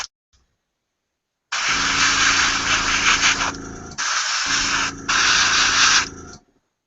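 An airbrush blows a steady hissing spray during a final rinse at a paint station, up close and loud, in three bursts of about two seconds with short breaks between them.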